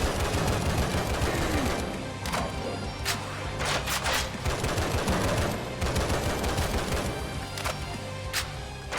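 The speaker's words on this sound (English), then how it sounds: "That's a good Sten SMG though." Sten SMG fire in the Serious Sam video game rattles in dense, loud rapid bursts almost without pause, layered over thumping in-game combat noise.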